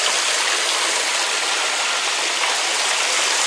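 Water flows steadily in a pond set up inside a haunted tent, a constant close rushing wash with no pauses and no voices.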